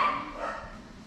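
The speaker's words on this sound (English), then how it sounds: "Sorry about the dog." A dog barks once or twice inside a beach house in Mexico, a muffled, mid-distance yap that fades fast over quiet room noise.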